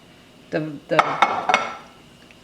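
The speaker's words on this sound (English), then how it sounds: "This you'll have to stir. Do not walk away from the pot." A spoon scrapes and clinks against a pot while a thick stew-fish and fungi mixture is stirred, a few short, close knocks and scrapes spread over about two seconds.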